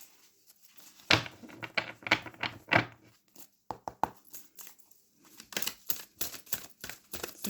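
Tarot cards being shuffled close up: quick bursts of crisp flapping and riffling, separated by short pauses.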